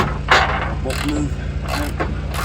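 A ratchet clicks in a few uneven bursts while unscrewing an old, rusty, 30-plus-year-old original bolt on a Dodge D100 rear spring, close and fairly loud, over a steady low background hum.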